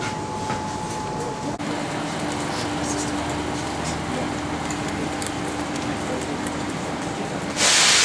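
Steady loud rumble and hiss of a train rolling into Adelaide Railway Station on North Terrace, with a high tonal whine early on and a sudden bright burst of noise right at the end.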